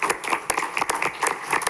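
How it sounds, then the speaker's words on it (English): Brief, scattered clapping from a small audience at a city council meeting, welcoming award recipients forward; a handful of hands clap unevenly and close by for a moment. "We clapping?"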